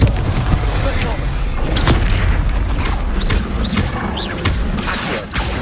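Spell casting in Hogwarts Legacy, Confringo and Expelliarmus, heard as loud booming blasts and whooshing magical bursts over a steady roar of battle, with several sharp impacts spaced through the fight.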